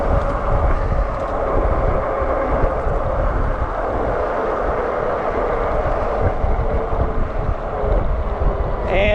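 Lectric XP e-bike cruising on throttle cruise control at about 29 miles an hour up a small incline, mostly steady rushing wind buffeting the microphone with a faint continuous hum underneath.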